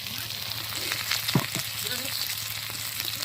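Onions fry in oil in a pan for a homestyle desi chicken curry, a steady close hiss of sizzling with a couple of soft stirring knocks partway through.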